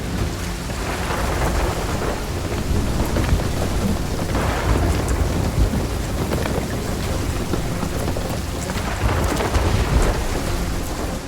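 A thunder and lightning storm in the pirate video game Sea of Thieves, with heavy continuous rain and deep rolling thunder that swells louder at times, with no speech.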